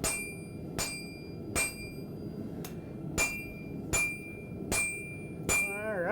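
A hammer strikes metal being flattened during blacksmith forging, roughly eight sharp ringing blows spaced under a second apart over a low background rumble, with no talk.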